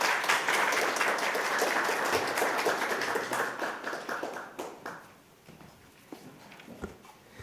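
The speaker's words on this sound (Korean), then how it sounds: "큰 박수 부탁드립니다." An audience at a forum held at the National Assembly applauds strongly, then the clapping thins and fades into a few scattered claps.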